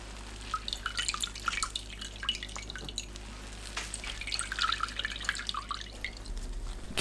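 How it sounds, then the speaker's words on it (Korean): Salted, pickled radish is squeezed by hand, and its brine drips and trickles into a bowl. The patter is close and irregular, quiet but continuous, with no talking. "절인 무는 물 짭니다."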